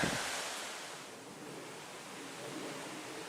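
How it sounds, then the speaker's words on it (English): Steady broadband wind rush blowing continuously, fairly loud and close, with gusty rumble in the low end and no voices, outdoors at a shooting competition range. "It's windy as anything today."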